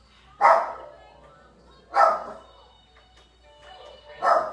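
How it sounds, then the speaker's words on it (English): Three loud, sharp dog barks, each a single burst spaced about two seconds apart, close by with quiet gaps between. "The dogs that never stop barking, right?"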